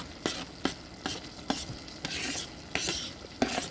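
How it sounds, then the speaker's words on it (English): Onions going into a pot of hot butter and being stirred, sharp spoon scrapes repeating about every half second over a soft sizzle, close by and without talk. "I already have my onions here. I'm going to go ahead and get them in the pot with my butter."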